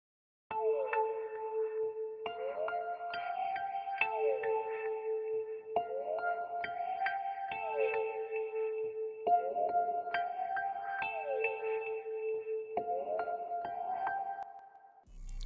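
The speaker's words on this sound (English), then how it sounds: "this next sound I added is a key from this Analog Lab bank." A spacey, warping synth key from an Analog Lab bank using the Deep Red Aurora preset, playing a three-note phrase that repeats steadily and loudly on its own with no talk, within an FL Studio beat.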